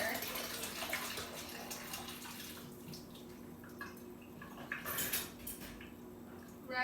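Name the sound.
water and spoon in a sink while draining boba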